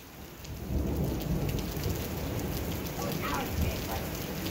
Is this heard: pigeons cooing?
no